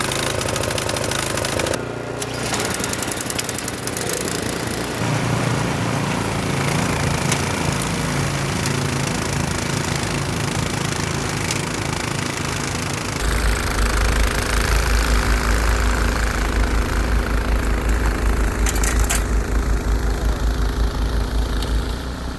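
A tracked snow blower engine runs steadily in deep Alaskan snow, a loud continuous mechanical drone that deepens and grows heavier partway through as the load rises, with no talking.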